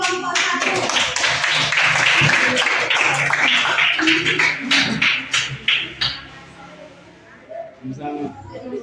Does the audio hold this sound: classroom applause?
yes